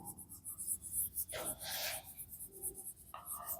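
Pen or marker writing on a board during a physics lesson, a steady close scratching stroke run that swells midway and continues in short bursts, with no talk over it.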